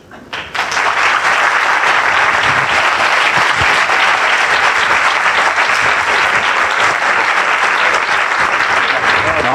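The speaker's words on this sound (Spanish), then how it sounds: "Damos un fuerte aplauso nuevamente al doctor Javier" After a talk by a doctor, an audience bursts into loud, sustained applause that starts abruptly and holds at full strength to the end, with a few voices blending into the clapping.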